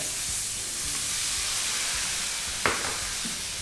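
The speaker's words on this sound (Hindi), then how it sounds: "टमाटर डाल लेते हैं" Chopped tomatoes hit hot oil already holding whole garlic cloves and asafoetida, and a steady, close frying sizzle fills the pan with a brief sharp crackle burst near the end, no voices.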